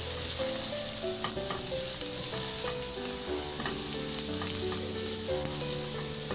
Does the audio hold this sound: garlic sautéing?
yes